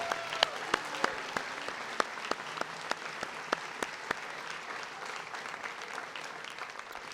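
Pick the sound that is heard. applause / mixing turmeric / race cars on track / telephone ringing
applause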